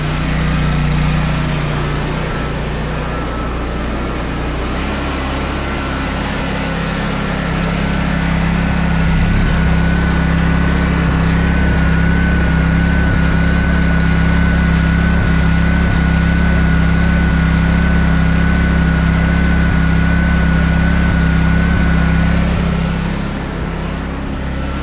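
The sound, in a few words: mini skidsteer snowblower engine running at high RPM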